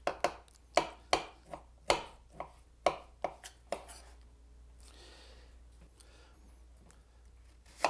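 Sharp knife chopping onions very thin on a board for an Alsatian tarte flambée, a quick run of crisp, evenly spaced cuts up close that stops midway, leaving quiet room noise with one last chop at the end.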